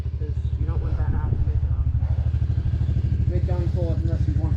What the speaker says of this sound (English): You're in second gear now, which doesn't have very high acceleration. You're actually labouring the engine.